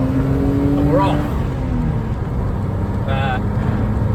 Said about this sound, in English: Lovely straight six, sounding fantastic as ever.